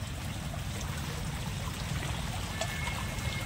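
Rainwater rushes strongly near the Godavari river during heavy rain, a steady broadband wash of flowing water that fills the whole stretch without pause.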